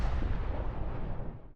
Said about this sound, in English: echoing gunshot in the previous episode didn't kill Ben or Kat